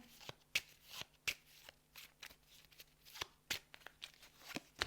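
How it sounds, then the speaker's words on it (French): Playing cards drawn and handled during a solo game of Goblivion, a string of soft crisp card snaps and slides, close and quiet, with no one talking. "j'ai 4 cartes à tirer"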